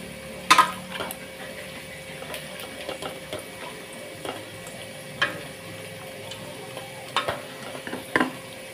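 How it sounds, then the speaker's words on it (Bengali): Broiler chicken pieces being worked by hand with spices in a bowl make wet, squelchy slaps and irregular sticky clicks close by, with a few louder bursts and no talking. "এখন চিকেনটাকে আমি ভালোভাবে মাখিয়ে নেব"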